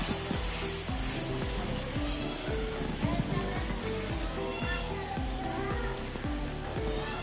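A capsicum dish is stirred in a pan as it cooks, giving a steady close sizzle with repeated scraping and thudding strokes of the spoon and a voice talking over it.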